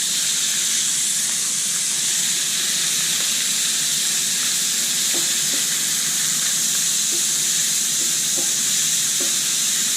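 Onions frying in canola or vegetable oil for cheeseburger pasta, a steady loud sizzle and hiss throughout with occasional faint stirring taps, no talking.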